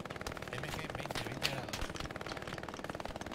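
Machine gun fire in the World War II shooter Hell Let Loose during a convoy simulation event, rapid repeated bursts of shots at moderate distance, fairly faint and continuous, with a brief sharper crack partway through.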